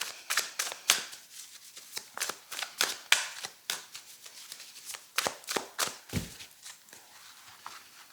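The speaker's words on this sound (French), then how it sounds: "je remets bien les cartes comme il se doit" Tarot cards being shuffled by hand: a steady run of crisp riffling and slapping bursts, close and fairly quiet, with no talking over them.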